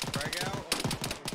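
Rapid bursts of automatic gunfire in an Arma 3 firefight against AI forces, dense cracking shots in quick succession, close and loud with a voice partly under them.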